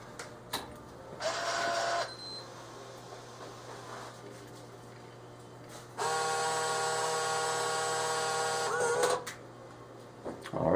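A Crane National Vendors Merchant Classic vending machine powering on and initializing, with two whirring motor runs, a short one and then a longer one, plus clicks and clunks in between, close up and alone.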